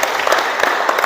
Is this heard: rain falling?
no